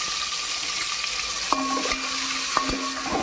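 Onion pieces and green chilies sizzle and fry steadily in a hot pan for a cabbage pilaf, a continuous close crackle with a couple of sharp stirring clinks partway through and no talking.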